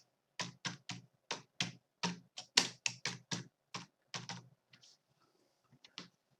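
Typing on a computer keyboard while entering a name into a spreadsheet row: a quick, close run of about twenty crisp key taps in uneven bursts, with a brief pause before a few final taps.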